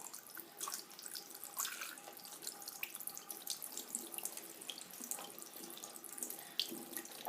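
Tap water runs steadily over an Xbox 360 disc held under a faucet, a continuous close splashing hiss with small shifts as the disc moves in the stream.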